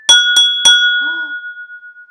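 A water-filled glass in a homemade glassware xylophone is struck three times in quick succession, each tap giving a bright, clear bell-like tone that rings on and slowly fades to silence, with no talking.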